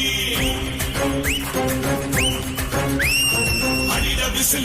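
Whistle blasts ring out in a Tamil campaign song for the TVK party, whose symbol is the whistle. Several short rising whistles come at a steady pace over loud, dense music.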